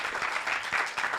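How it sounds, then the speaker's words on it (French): A brief burst of audience applause closing a university conference on ecological-transition careers, moderately faint and even, with no one speaking. "on peut les applaudir très fort"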